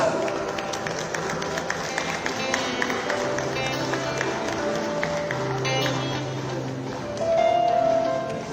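Applause from an audience at a capital markets awards ceremony for a runner-up winner, steady continuous clapping with crowd murmur, an announcer's voice briefly over it, building a little toward the end.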